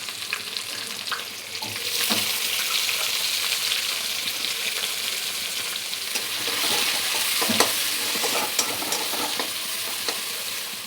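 Chopped onion frying in hot oil with cardamom, cloves, cinnamon and bay leaves for a prawn malai curry, a steady loud sizzle with occasional scraping stirs, close and with no voices.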